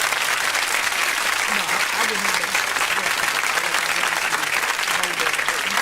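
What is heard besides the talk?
studio round of applause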